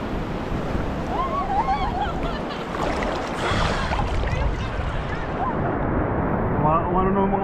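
Ocean waves wash onto a beach in Ireland in a continuous, fairly loud rush of surf with wind noise, while people talk and exclaim over it.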